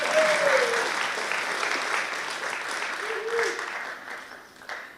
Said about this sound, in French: Oui, vous pouvez applaudir